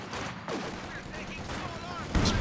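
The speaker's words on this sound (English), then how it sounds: "Barrage coming through onto the squad behind the sandbags" Artillery barrage in Company of Heroes 2 pounding a squad behind sandbags, a dense run of blasts and gunfire-like cracks with a heavier boom near the end, all loud and close.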